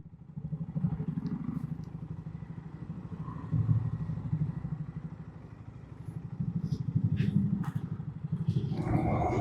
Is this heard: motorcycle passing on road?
yes